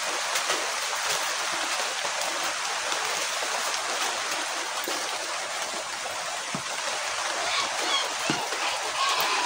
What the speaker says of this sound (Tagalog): Grabing ulan guys oh